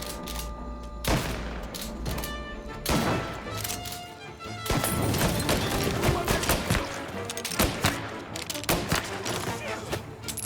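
Heavy gunfire in the video game Mafia: Definitive Edition, with bursts of shots, thuds and booms mixed with music and shouting voices, dense and continuous throughout.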